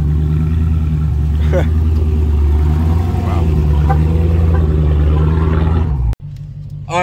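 A Dodge Challenger Scat Pack with a new battery rumbles loudly up close, its deep engine note swelling with revs before cutting off abruptly, while a voice exclaims over it.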